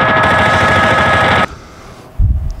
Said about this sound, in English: Officers find themselves against a fully automatic modified AK-47 with armored piercing bullets.